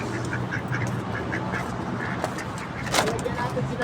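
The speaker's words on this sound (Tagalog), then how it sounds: "At tayo ngayon ay magpapakain ng mga bibe." A flock of ducks quacks repeatedly nearby on a rooftop at feeding time, the calls overlapping with people talking in the background.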